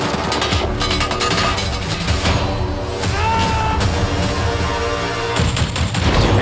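A film trailer for a war story plays a dense volley of gunfire, rapid overlapping shots and bursts layered with booming impacts and dramatic score, loud and sustained throughout.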